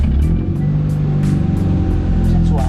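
A classic car's engine idles at a showroom in South Jakarta, giving a steady, deep, bass-heavy rumble that stays close and loud throughout, with faint voices in the background.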